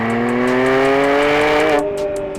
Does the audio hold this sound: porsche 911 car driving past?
yes